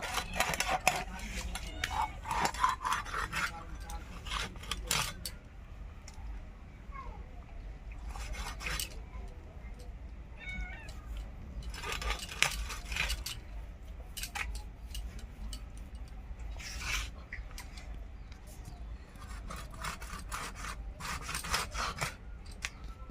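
Scissors cutting the belly portion from a Saipan fish in a kitchen: repeated close snips and rubbing scrapes in irregular bursts, moderately quiet, with brief pauses between cuts.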